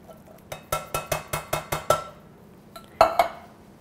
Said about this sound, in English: Now I'm gonna stir this around